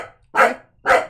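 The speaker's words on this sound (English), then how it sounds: "The lap desk fell over and he's barking at it." A dog barks twice at a fallen lap desk indoors, two loud, close, sharp barks about half a second apart with quiet between.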